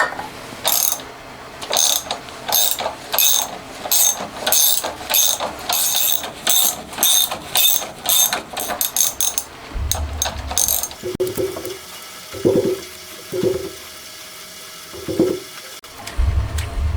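Screw threads are tapped into a machined cylinder for a home-built 125cc four-cylinder 16-valve engine, with a ratchet tap wrench clicking in rapid, regular bursts close by, then a few duller knocks and handling sounds.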